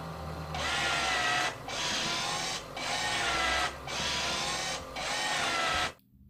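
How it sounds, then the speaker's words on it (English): A robot mop base station washing its mopping pads, a mechanical whirring and scrubbing noise in five steady bursts separated by short pauses, fairly close. "with the washing process, both units are very loud and they will scrape the dirt off the mopping pads"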